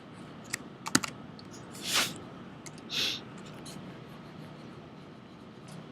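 A few computer keyboard key presses while working in Mudbox sculpting software, sparse light clicks near the start followed by a couple of softer taps, close and quiet over a faint room hum.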